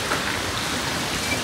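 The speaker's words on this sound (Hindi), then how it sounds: "आप देख सकते हो सामने बारिश हो रही है," Heavy rain pours steadily outdoors, a dense, even hiss of falling drops with no pauses and no voices.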